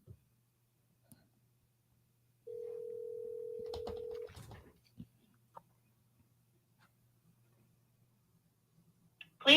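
A telephone call to a seller, with a single steady dial tone lasting under two seconds, then a few scattered faint clicks and ticks across near silence and a short loud burst at the very end.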